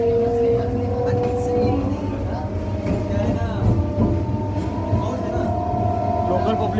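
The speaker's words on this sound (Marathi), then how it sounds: "आता आपण लोकल चेन्नई लोकलमध्ये चाललो आहे बीचला, मरीना बीचला" A Chennai local commuter train rolls along with a steady rumble and clatter of carriages and a drawn-out screeching tone, while people talk nearby over the ride.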